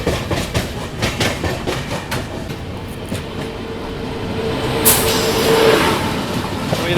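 The Janmabhoomi Express, run push-pull with a WAP7 electric locomotive, rolls along with rhythmic clickety-clack of wheels over rail joints, a steady rumble and a brief hiss partway through, close and alone.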